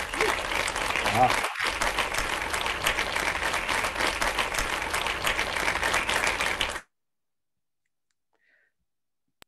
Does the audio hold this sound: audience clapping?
yes